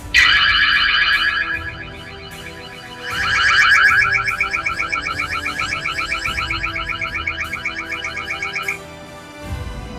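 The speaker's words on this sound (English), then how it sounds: "the camera will give our alarm and light." A Hi Focus active deterrence security camera sounds its alarm: loud electronic siren tones in two blasts, then a rapid pulsing warble that stops abruptly.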